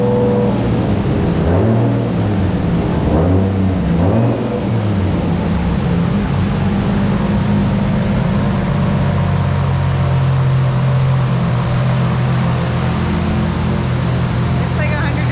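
A Toyota MK3 Supra with a stock 1JZ engine runs loud and steady close by, its low engine drone rising and falling in a few revs early on before settling into a continuous hum, with voices talking over it.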